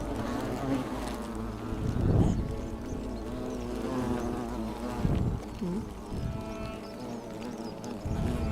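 Bees buzz steadily around a beehive in the video game The Forgotten City, a continuous hum with soft voices and other game sounds underneath.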